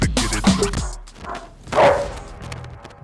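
A Dutch Shepherd barks in short, loud bursts up close early on, followed by a quieter whimpering yelp and low background noise.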